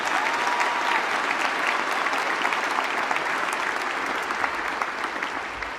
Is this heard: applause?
yes